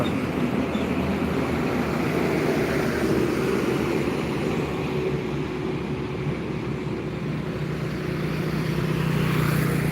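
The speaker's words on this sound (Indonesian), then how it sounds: "Cuma ada truk melintas." A truck passes along a quiet road early in the morning, heard as a steady low rumble with a broad roar that swells slightly and lingers throughout, without voices.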